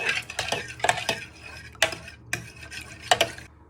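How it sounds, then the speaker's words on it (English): Sausage, bacon and bean casserole stirred in a pan, a spoon scraping and clattering against the pot in repeated close strokes with brief pauses between. "you have stirred it pretty well"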